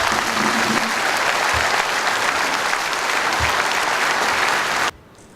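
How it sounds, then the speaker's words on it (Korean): Audience applauding at a mayoral inauguration in Daejeon, a loud, dense, continuous burst of clapping from a large crowd that cuts off abruptly near the end. "올라오시는 발걸음 무겁지 않도록 박수를 맞아주실까요?"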